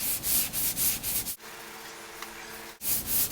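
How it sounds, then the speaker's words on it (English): Hand block sanding of 3M finishing glaze on an auto body panel makes a rhythmic, close back-and-forth scraping. The strokes stop for about a second and a half, then resume. "going back and forth to each side like I'm doing, that helps you do the cross sand"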